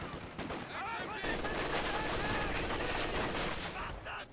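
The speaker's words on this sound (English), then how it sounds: "machine gun fire!" Continuous dense gunfire and battle noise in a World War II strategy game, loud and unbroken throughout, with shouted voice lines mixed into the din.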